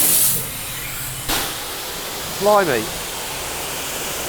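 A spray washer rinses mud off a Hennessey VelociRaptor 6x6 truck, its steady loud hiss running throughout with a sharper burst near the start, while a voice briefly exclaims over the spray.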